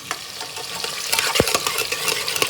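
Onions sizzle and fry in a pan while a utensil stirs and scrapes, with a few clinks against the metal.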